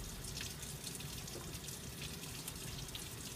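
A large beefsteak tomato, cored, rinsed under a running kitchen tap, giving a steady close hiss and splatter of water throughout with faint irregular drips.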